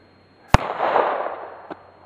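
A gun fired at targets, one sharp loud shot followed by a noisy tail and a second fainter report about a second later.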